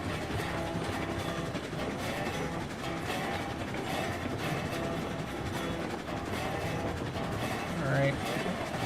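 A train rolls along the rails in the video game Railroads Online, a faint, continuous rumbling clatter with a broad wash of noise and no distinct beats.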